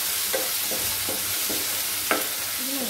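Tomato being fried and stirred in a pan with curry leaves while making ragi upma; soft sizzling fills the background as a spoon scrapes the pan in a regular series of short strokes, with no talking.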